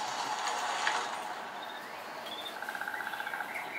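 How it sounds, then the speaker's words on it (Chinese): A jungle soundscape with frogs croaking, heard as a rapid train of repeated chirpy calls in the second half, layered over steady hiss and high insect-like tones. "有青蛙叫"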